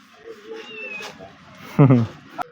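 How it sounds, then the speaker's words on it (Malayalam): A cat in a village grocery shop gives a couple of close, loud meows, the last one short and sharp, amid quiet background sounds and some talking. "ഒരു പലചരക്ക് കടയിൽ കുറേ സംഗതികൾ അതിനിടയിലായിട്ടൊരു പൂച്ച നിൽക്കുന്നതൊക്കെ"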